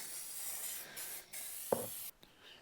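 A spray paint can coats the door panels of a 1980 Dodge W200 truck in short bursts of hissing spray, a few seconds each with brief pauses, close and soft, with a small tap between bursts.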